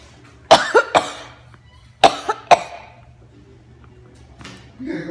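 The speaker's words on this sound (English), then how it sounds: "I've been coughing, I've got a bad cold." Several sharp coughs from a person with a bad cold, in close succession, two bursts of two, near and fairly loud, with quiet pauses between and faint breathing after.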